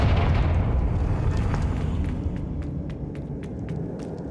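An explosion from the Confringo spell in Hogwarts Legacy opens with a loud, deep boom that rumbles and fades, followed by a few faint crackling ticks.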